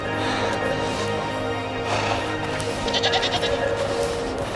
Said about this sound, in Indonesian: Lihat kawanan kambing.